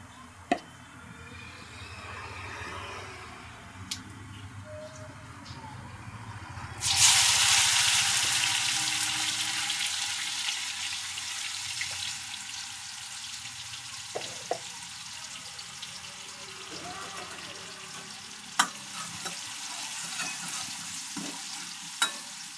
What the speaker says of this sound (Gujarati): જીરું થઈ જાય એટલે આ ઝીણા સમારેલા ડુંગળી ટામેટાં નાખી દઈશું।